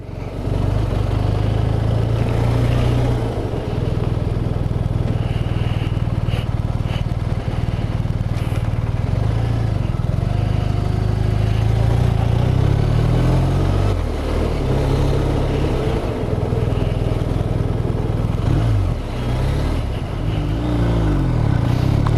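A 2019 BMW R1250 RT motorcycle engine drones steadily and loudly while riding, its pitch rising and falling as it shifts gear and accelerates, with wind rumble and no voice over it.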